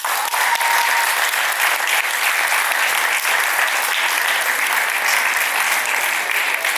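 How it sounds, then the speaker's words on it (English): Graduating students and staff clap loudly at a leadership institute's graduation ceremony, a dense, sustained wash of applause from a large audience with no voices over it. "Give yourself a round of applause."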